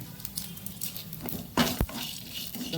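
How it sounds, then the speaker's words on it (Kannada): Chopped chilli peppers roasting in a pan for a white hibiscus chutney: soft sizzling and patter with a few sharp scrapes and clinks of a spoon stirring against the pan, close and fairly quiet. "ಈ ಮೆಣಸನ್ನು ಸ್ವಲ್ಪ ಹೀಗೆ ಕಟ್ ಮಾಡಿಕೊಂಡು ಇದರಲ್ಲಿ ಹುರಿಯೋಣ"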